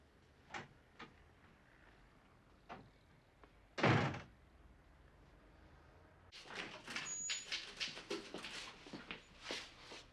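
A door bangs shut in a film scene, one sharp loud slam standing out from quiet room tone, preceded by a few soft clicks and followed by a busier patch of knocks and rustles.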